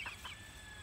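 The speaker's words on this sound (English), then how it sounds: "That's my rooster." A rooster gives two short, close clucks in quick succession, then the remainder is quiet with faint background hum.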